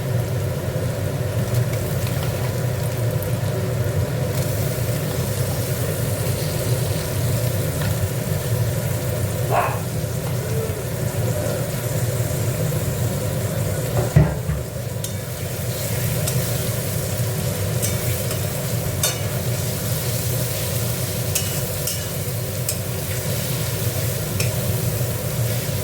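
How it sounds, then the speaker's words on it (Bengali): Prawns frying in a pan for a Bengali banana-flower mochar ghonto, with a continuous sizzle and the scrape of stirring throughout, plus a couple of sharper clinks against the pan. "দেখো এই চিংড়ি মাছগুলো দিয়ে দিচ্ছি।"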